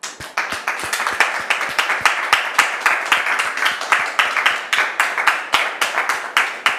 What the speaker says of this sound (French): Merci public de la recevoir avec vos applaudissements.